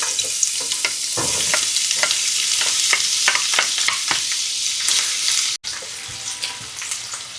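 Onion frying in oil in a pan preheated on high heat, giving a steady loud sizzle with crackling and a few stirring scrapes, close up, broken by a brief drop near the end, with no talking.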